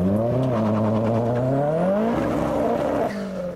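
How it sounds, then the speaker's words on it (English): Cars leaving a Japanese car show rev loudly up close, one engine climbing steadily in pitch as it pulls away, then easing off near the end. "a good demonstration of what I do filming cars leaving"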